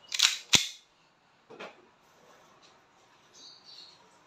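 A WE Hi-Capa T-Rex airsoft pistol fires into a chronograph, two sharp close cracks in quick succession, followed by fainter clicks and handling noises in a quiet room.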